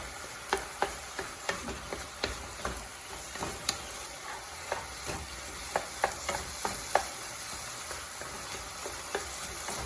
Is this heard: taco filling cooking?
yes